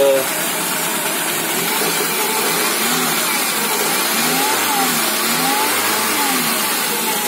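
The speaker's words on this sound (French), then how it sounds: "là on entend un petit bruit mais qui est juste lié au pot d'échappement" A Peugeot 206 1.1 petrol engine (TU1JP) with about 500,000 km idling and revving steadily, its exhaust burbling close by with a constant drone.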